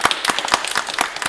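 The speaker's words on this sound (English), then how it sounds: "Give her a round of applause" A game show studio audience claps for a contestant, a dense patter of overlapping hand claps that swells and fades over a little more than a second, fairly loud and close, with no talk over it.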